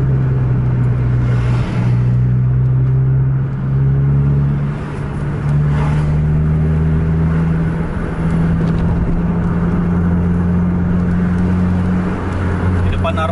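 A bus engine revs and accelerates hard during a highway bus race, its loud steady drone climbing slowly in pitch as the throttle is held down. Road and wind noise sit beneath it.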